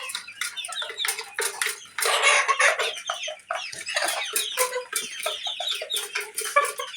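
Desi chickens fighting over food cluck and squawk in rapid, overlapping bursts close by, with the scuffle loudening in the middle.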